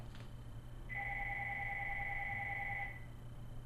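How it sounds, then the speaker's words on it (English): A telephone rings once with a steady electronic two-tone trill lasting about two seconds, faint and somewhat distant over a low background hum, with no talking. "And the phone is ringing"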